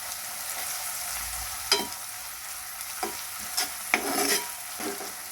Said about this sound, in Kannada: ಎಲ್ಲ ಚೆನ್ನಾಗಿ ಮಿಕ್ಸ್ ಮಾಡೋಣ.